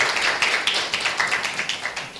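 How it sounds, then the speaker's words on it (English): Audience applause at an International Day of the Girl Child event in Tanzania, a brisk run of claps with a rhythmic, pulsing texture, fairly close and without talk. "Yes, a round of applause, please. A bigger one."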